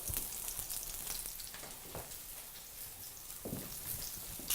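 Salmon fries in a pan with a steady, even hiss and sizzle and faint popping crackles, continuous and close, with no talking.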